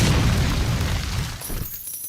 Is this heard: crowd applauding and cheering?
no